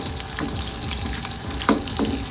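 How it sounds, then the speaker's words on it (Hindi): Chopped onion browning in hot ghee for a dal tadka, giving a steady close sizzle and crackle with a few soft clatters of stirring. "तो प्याज को अच्छे से ब्राउन करेंगे।"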